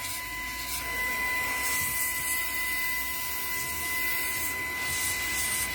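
Car vacuum running in blow mode, pushing out a steady rush of air with a constant motor hum and whine, close and even throughout with no talking.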